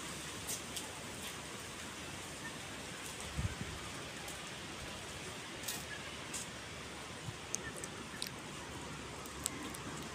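Steady rain sets in at a nature boardwalk, a constant hiss of drops on surfaces with occasional louder nearby patters. No talk is heard.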